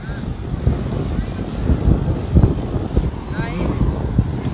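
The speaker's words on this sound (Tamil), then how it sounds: "காற்று செம்மையாக பலமாக அடிக்குது" Strong wind blowing across Chennai's Marina beach, buffeting the microphone with a steady low roar that swells and gusts for several seconds, with faint voices in the background.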